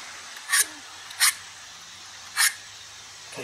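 An Allen broadhead sharpener is drawn across a Zwickey traditional broadhead blade, giving three short, crisp rasping strokes with quiet pauses between them, close and clear with no talk.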